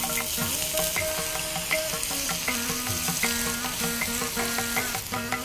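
Onions sizzle and fry steadily in a hot pan with fennel seeds and fenugreek, a loud continuous crackle with stirring and no voices.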